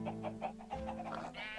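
Chicken clucking in a modded Minecraft world, a quick run of rhythmic clucks repeating close and clear with no one talking over them.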